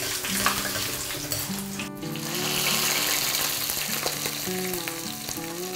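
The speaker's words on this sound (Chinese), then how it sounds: "我们下锅给它呛一下。" Hot oil poured over red and green Sichuan peppercorns and dried chilies in a wok, a bright crackling sizzle with a sharp burst near the start, continuing steadily under faint background music.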